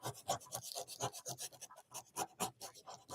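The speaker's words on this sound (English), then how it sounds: "now what I'm doing is I'm just taking it and I'm going to scrape around the edges" Edges of a cardboard Easter craft piece are scraped, producing a rapid, rhythmic rasping of repeated short strokes, close and fairly quiet with no voices.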